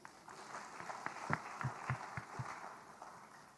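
An audience at a church gathering applauds two bishops with faint, distant clapping, while a few louder, slower claps stand out close by against the soft wash.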